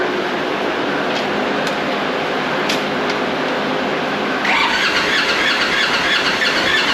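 A rebuilt Polaris XP Turbo engine cranks with a steady whirring drone under a high squealing tone, growing a little louder and harsher near the end, close by with no talk.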